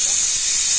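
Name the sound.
pressure cooker hissing steam on a clay stove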